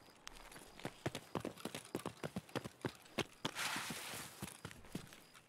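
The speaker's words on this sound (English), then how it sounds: "the footsteps are so fucking loud" Loud footsteps in a video game, a quick run of sharp, evenly spaced clip-clop impacts close up, with a brief burst of hissing noise midway and no talk.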